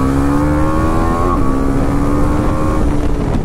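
An off-road motorcycle engine revs under a steady throttle pull, a loud, close, continuous drone whose pitch climbs slightly and then holds, with some wind buffeting the microphone.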